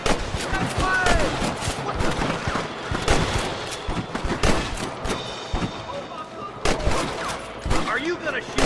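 Dense, continuous gunfire from a Red Dead Redemption shootout with rustlers in Pike's Basin, loud rapid shots crackling throughout over a busy game soundscape.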